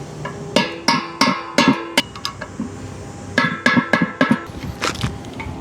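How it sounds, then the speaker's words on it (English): A series of sharp metallic strikes, a hammer tapping a screwdriver against the lip of a metal keg, coming in uneven bursts of two or three hits with short pauses between. "Maybe take the hammer and the screwdriver, catch that lip, and maybe that'll get it done."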